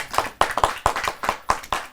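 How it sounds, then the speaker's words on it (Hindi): A small group claps for a poet at a Hindi kavi sammelan poetry gathering, with sharp, close, irregular hand claps in quick bursts and no speech over them. "जोरदार ताली के साथ"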